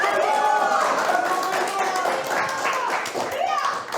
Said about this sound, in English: please cheer for whoever you thought had the best poem